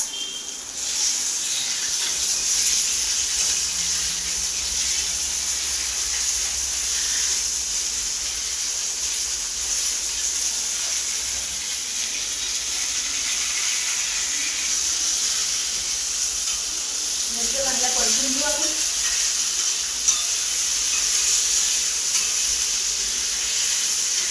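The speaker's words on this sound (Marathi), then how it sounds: "चांगल्या मिरच्या भाजून झाल्या आता तव्याला आपण खाली उतरून घेऊ" Green chillies roasting on a hot pan over a gas flame give a steady soft hiss and faint sizzle throughout, with a few brief clinks and rustles near the end; no talking.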